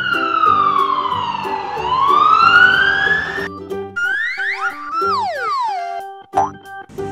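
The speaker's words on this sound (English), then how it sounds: "Black police car." A loud police siren wails up and down for several seconds, then gives way to playful sliding whistles and bouncy cartoon effects.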